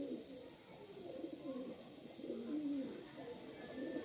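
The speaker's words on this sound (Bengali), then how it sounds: "এই কবুতরটা ভালো কবুতর হবে" A newly bought pigeon from Beldanga market, said to have a slight cold, gives faint repeated low cooing phrases in a quiet room with soft background hiss.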